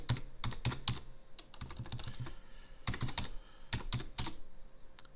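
Laptop keyboard keys tapped in quick bursts of clicks while a command is entered, close and fairly quiet, with short pauses between runs of typing.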